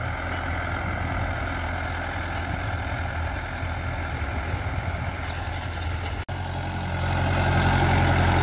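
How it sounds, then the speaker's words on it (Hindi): A Mahindra 585 50 HP tractor pulls a harrow through a field being prepared for sugarcane sowing, its diesel engine droning steadily nearby, with a brief dip before the engine note grows louder toward the end. "तो देखिए महिंद्रा 585 भाइयों 50 HP का ट्रैक्टर है, ट्रैक्टर देखिए किस तरीके से स्लिप ले रहा है"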